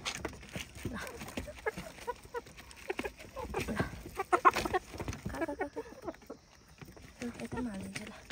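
Backyard chickens, a flock of about six hens and roosters, cluck and squawk near the listener while being fed, with irregular bursts of calls and scratching and occasional talk mixed in.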